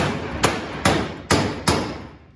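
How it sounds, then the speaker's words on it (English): An adjustable hammer strikes metal four times at a steady, evenly spaced rhythm, each blow a sharp, loud, close ringing hit that fades quickly, with no talk over it. "These adjustable hammers are deadly."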